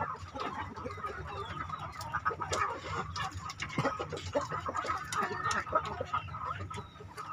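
Several free-range native chickens, young hens and a rooster, cluck and murmur continuously nearby in a backyard, with a few louder squawks standing out over the soft farmyard chatter.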